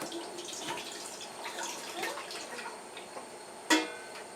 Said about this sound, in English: I have my 4 cups of juice that's been strained through the cheesecloth in here. I'm going to pour it in this big pot here